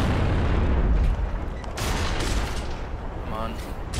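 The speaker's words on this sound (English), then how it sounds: "That's a grenade." A grenade goes off in Gears of War on Insane difficulty, a loud booming blast followed by rattling gunfire and battle noise, with a voice briefly speaking over the fray.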